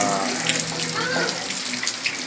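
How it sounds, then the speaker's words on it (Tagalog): Heavy rain pours down steadily in Dasmariñas, Cavite, in a dense, hissing wash of water, continuous and close, with no voices. "Tuloy-tuloy lang mga buhos ng ulan."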